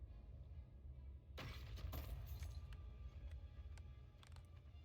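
Bone shatter corpse-destroying effect in the action game Path of Exile 2: a quiet, sharp crunching burst with brittle cracking, followed by a few smaller clinks over a low rumble.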